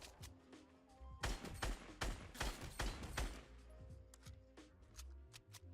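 Assault rifle fire from Fortnite Battle Royale, sounding as a run of sharp, separate shots that come in bursts and single pops, up close and fairly loud, over a steady game background.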